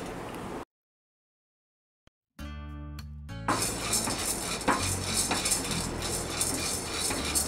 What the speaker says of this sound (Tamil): கடலைப்பருப்பு வறுத்துடலாம்.